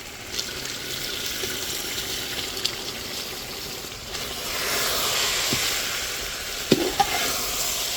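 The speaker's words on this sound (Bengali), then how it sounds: "এবার আমি চালটা এর ভিতরে দিয়ে ভেজে নিব" Rice fried in a pot for a biryani of one kilo of rice and one kilo of meat gives a steady, close sizzling hiss, with scraping from stirring and a few sharp clinks near the end. No one speaks.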